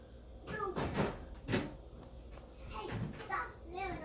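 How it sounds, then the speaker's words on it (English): A cupboard door slams several times in a home, giving sharp knocks that stand out over someone talking and a faint background hum. "Hey, stop slamming."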